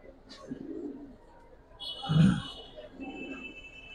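Giribaz and Lalpatti pigeons coo softly, a couple of low throaty coos with one louder burst in the middle, alongside faint high chirps at close range.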